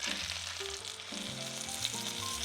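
Pork roast searing in oil and butter in a Dutch oven, a strong continuous sizzle and crackle close by, with some tonal background music running underneath and no speech.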